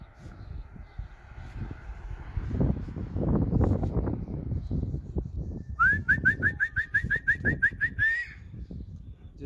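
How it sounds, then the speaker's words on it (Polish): Fluttering wing noise and soft rustling of pigeons lifting off, followed by a rapid series of bright whistled chirps near the end. "Trochę się podrywają, bo inne gołębie pewnie gdzieś górą idą."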